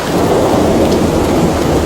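Heavy rain pours steadily during a thunderstorm in Chengdu, a dense continuous roar with low thunder rumbling underneath, loud and unbroken throughout.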